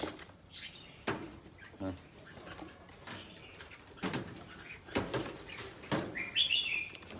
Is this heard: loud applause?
no